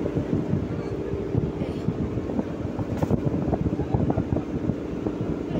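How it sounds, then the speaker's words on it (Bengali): A motorised country boat (bhotbhoti) pulls away from shore, its engine a steady low throb under wind and scattered voices of passengers nearby. "এই যে ছেড়ে দিল ভটভটি"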